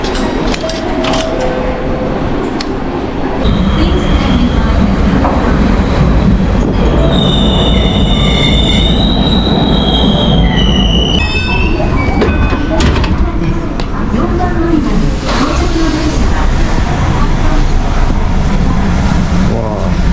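A train running on rails, loud close interior rumble with clattering wheels and a high squeal of wheels partway through, while people talk nearby.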